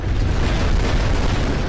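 Explosions in the Garry's Mod video game, a loud continuous rumbling boom that fills the whole brief moment with heavy low-end blast noise and no talk.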